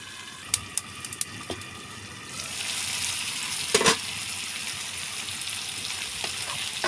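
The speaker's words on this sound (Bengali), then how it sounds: "দেখেন এটা কিন্তু অনেকটাই ভাজা ভাজা হয়েছে" Dried fish and drumstick sizzle as they fry in spices, a few sharp utensil clinks early on. Then the frying hiss swells louder and steadier, with a brief scrape midway.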